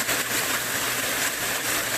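A waterfall behind a garden yoga deck, with rain falling, gives a constant broadband rush that stays even and moderately loud throughout.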